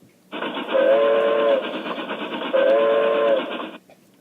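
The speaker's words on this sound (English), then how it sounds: "Alex and Tyler caught a train headed for Tennessee" A loud, sustained steam train whistle sounds twice in long blasts over the rumble of a moving train, close by.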